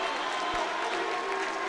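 A high school wrestling crowd in a gym applauds and cheers after a pin victory in a Melrose versus Wakefield dual meet, a steady, dense wash of clapping and crowd noise throughout the short moment.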